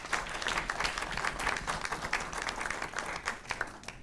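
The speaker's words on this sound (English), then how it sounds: "Let's give another round of applause." Audience applause after an evening presentation on a prostate cancer treatment, many hands clapping in a lively, uneven patter with a few sharper nearby claps, steady for the whole stretch.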